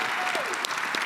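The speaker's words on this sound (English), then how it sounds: "How about a round of applause for our honorees?" Audience applause for symposium honorees, a short burst of dense clapping from a seated crowd, with a voice briefly audible over it.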